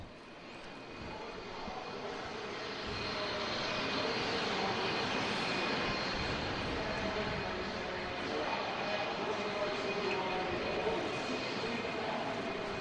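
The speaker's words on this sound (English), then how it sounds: "Still a couple of jet dryers on the track working turns 1, 2, and 4." Jet dryers run on a NASCAR oval during the 2018 Food City 500, drying the track through the turns with a steady, broad jet-engine roar that swells after a few seconds and holds at a loud, sustained level.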